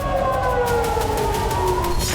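Air raid alert sirens wail over Tel Aviv, a loud sustained tone drifting slowly downward in pitch and heard alone over a low rumbling background.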